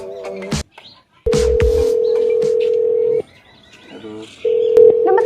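A phone dials a customer care number, playing short keypad tones and then long steady dial-tone beeps, loud and close, with a brief pause between the tones.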